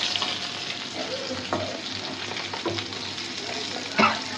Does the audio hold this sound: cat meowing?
no